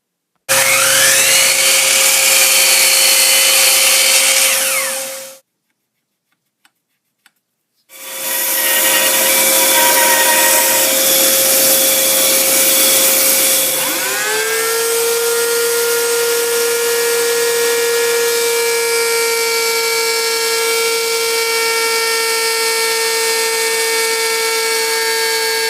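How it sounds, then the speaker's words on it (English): A miter saw rough cuts cherry wood to length, its motor whining loudly as the blade bites in. After a short silence it spins up again and runs steadily through a second cut. "first thing I need to do is go over to the miter saw, and I need to rough cut this to length"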